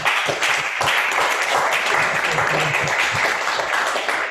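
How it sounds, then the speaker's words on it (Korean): Warm applause from a Korean church congregation sending off a deacon, continuous clapping across the whole span with faint voices mixed underneath. "박수로 보냅시다"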